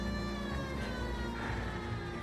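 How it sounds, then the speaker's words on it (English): A police car siren in LA Noire wails continuously and loudly, a steady rising and falling tone over engine rumble for the whole stretch, with no talking. "Why didn't I turn the siren on earlier?"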